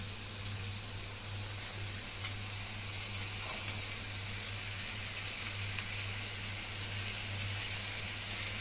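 Pieces of oxtail hitting a pan of onions give a steady, dense frying hiss with no clear break, accompanied by a low constant hum underneath.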